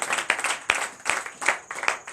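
A church congregation at a night deliverance and prophecy service claps and cheers, with sharp rhythmic claps in a steady beat and excited voices between them.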